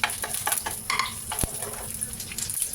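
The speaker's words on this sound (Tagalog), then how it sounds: "Umpisahan ng pagluluto sa paggigisa. Ilagay na ang bawang," Garlic sautéing in a pan for a stir-fry of chicken liver with Baguio beans, a steady close sizzle broken by scattered scrapes and clinks of a utensil stirring against the pan.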